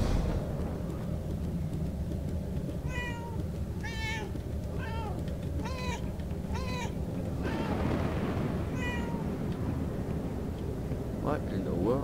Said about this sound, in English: I'm happy to see a little kitty coming.